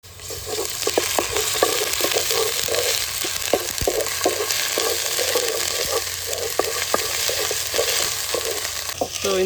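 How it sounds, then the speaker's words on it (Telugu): Ginger garlic paste frying in a pan for a prawns fry, a steady close sizzle with crackling pops throughout and occasional stirring clicks, with no talking. "అల్లం వెల్లుల్లి పేస్ట్ వేసుకున్నాం."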